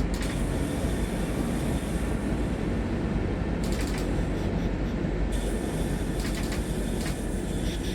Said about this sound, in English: The train has safely come to a stop.